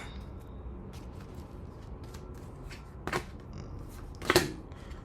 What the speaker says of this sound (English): So I'm gonna shuffle again.